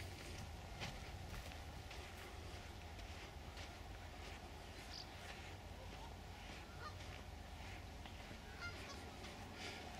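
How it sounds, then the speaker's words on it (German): Wild geese honk repeatedly at a moderate distance from a nature reserve along the coast at Laboe, a scattered chorus of calls over faint wind and footsteps. "Man hört die Wildgänse."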